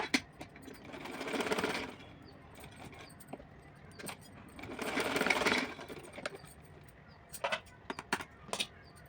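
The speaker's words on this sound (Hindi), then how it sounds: "सिलाई लगाऊंगी।" A sewing machine stitching a small summer dress for a Laddu Gopal idol runs in two distinct bursts of whirring, about two seconds each, close and fairly loud, with short clicks and handling taps in between.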